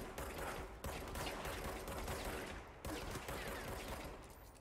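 Rapid gunfire in the action game Control, bursts of loud overlapping shots with sharp cracks at intervals, echoing combat noise throughout.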